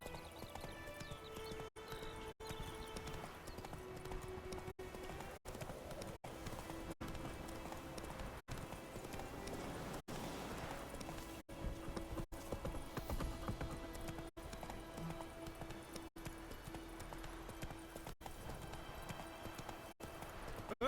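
Horse galloping in The Witcher 3 video game: steady, continuous clip-clop of hooves with an occasional whinny, heard up close over background game sound.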